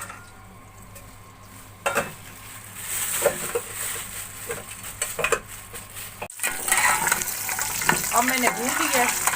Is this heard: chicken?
no